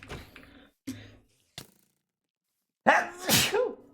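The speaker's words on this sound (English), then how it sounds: "Running away and sneezing at the same time." A few short, quiet rustles, a pause of silence, then a sharp, close sneeze bursting out.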